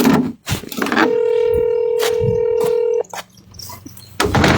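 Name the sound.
telephone ringing unanswered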